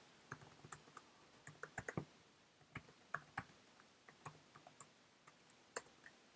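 Sharp, irregular keystroke clicks tap out a password on a computer keyboard after an SSH login, quick bursts with short pauses, close and fairly quiet.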